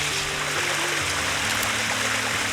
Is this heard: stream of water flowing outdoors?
yes